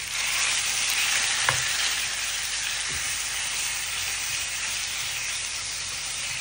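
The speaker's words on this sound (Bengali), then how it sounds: "এখন এই যে একটু ফ্রাই করে নিই মাংসটা।" Chicken frying in a pan with ginger, garlic, cumin, coriander and chilli for butter chicken, giving a steady close sizzle with two brief clinks of a utensil.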